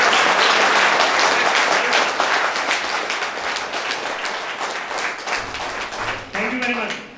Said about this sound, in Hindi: सबसे पहले तालियां बजाओ यार